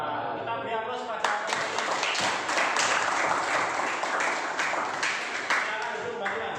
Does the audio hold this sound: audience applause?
yes